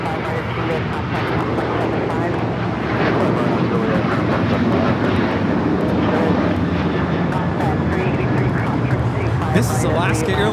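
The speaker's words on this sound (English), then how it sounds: "This is Alaska Airlines Flight 6 taking off to Washington Reagan National on the 737-800" An Alaska Airlines Boeing 737-800 takes off from LAX for Washington Reagan National, with a loud, sustained jet roar that swells slightly partway through, while a voice talks intermittently over it.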